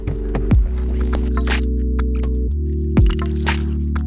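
Steady low engine hum and road drone inside a 2020 Mercedes-Benz C180 sedan while driving, with a couple of brief thumps from the cabin and no talk.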